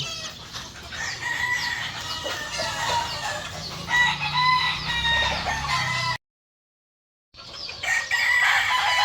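Backyard gamefowl chickens in a yard, several birds clucking and crowing in overlapping calls, fairly close and loud, broken by a second of silence before the calls resume.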